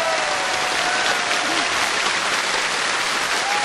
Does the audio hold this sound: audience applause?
yes